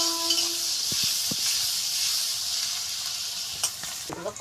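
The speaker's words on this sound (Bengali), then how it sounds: "দিয়ে দিচ্ছি পেঁয়াজ, একটু হালকা করে ভেজে নিই" Onions and sliced green chillies frying in hot oil in a pan for egg chowmein make a loud, steady sizzle and hiss, with a few soft utensil taps and scrapes as the pieces are moved around.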